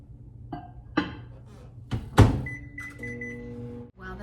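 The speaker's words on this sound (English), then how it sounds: "So I'm just going to put this in the microwave for 90 seconds." Keto bread batter goes into a microwave oven in a home kitchen: a few thunks and clicks as the door closes and it is set, then a steady electric hum with a whine as it starts cooking.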